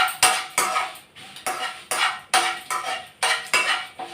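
A spoon scrapes and knocks around a pan of dried prawn chilli powder in a steady stirring rhythm, about ten distinct close, bright strokes in a few seconds, with no talk.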